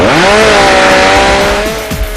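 A chainsaw-powered Lewis winch strains to pull an overturned van upright, its engine a loud close whining drone that sags in pitch under load before fading with a few rattling knocks at the end.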